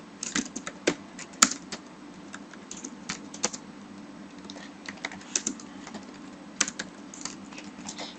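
Keys clatter on a computer keyboard in irregular bursts of quick clicks, close and distinct over a low steady background hum, with no one speaking.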